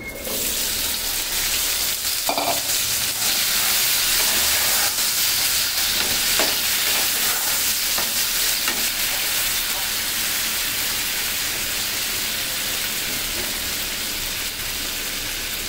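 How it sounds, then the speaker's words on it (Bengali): Pieces of shrimp head fry in hot oil, a loud, dense, continuous sizzle that holds steady throughout, with a few faint scrapes and no talk. "আমি এখন এই তেলেই কি বলে এটা, গাঠিগুলো ভেজে নিব।"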